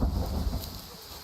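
Thunder in the hunting video game Way of the Hunter, a short deep rumble over a wash of rain that fades after its opening swell.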